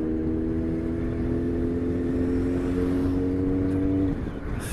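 Steady engine drone of cars and trucks on a busy highway, heard from a motorcycle riding between two trucks, loud and continuous with a constant tonal hum that drops away near the end.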